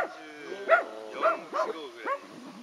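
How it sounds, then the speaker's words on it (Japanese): A one-year-old golden retriever, about 34 kilos, barks repeatedly at close range, about four or five sharp barks at a steady pace, with quiet voices of people in the room underneath. "ほら、吠えなくていいじゃん、お前。"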